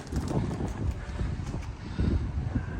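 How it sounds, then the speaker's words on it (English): Gusty wind in Bergen, Norway buffets the microphone with a low, rumbling roar that rises and falls throughout. "It's windy here today."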